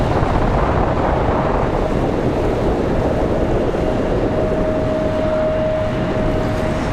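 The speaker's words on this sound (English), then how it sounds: "My goodness, this wind is outrageous." Strong wind blasting an outdoor microphone at a Charlotte Douglas airport plane-spotting spot, a loud steady roar of rumbling buffeting with a faint thin tone appearing in the second half.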